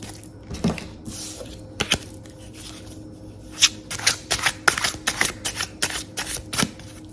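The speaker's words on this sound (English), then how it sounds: "Good hard shuffle." Tarot deck shuffled hard, a run of crisp flicking riffles and card snaps, close and fairly quiet, growing busier toward the end with no talk over it.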